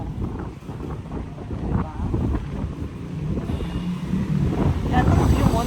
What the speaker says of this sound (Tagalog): Ang hangin kaya dito sa 5th floor